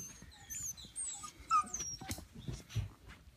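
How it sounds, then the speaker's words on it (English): Silver Weimaraner puppies in a litter of thirteen whimper and yip in short, uneven bursts, close and fairly quiet, with small squeaky whines overlapping one another. "Gorgeous, gorgeous puppies though."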